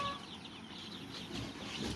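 Rooster and chicken clucking from a flock of farm-raised cockerels, close and continuous, with overlapping calls and a busy pen ambience throughout.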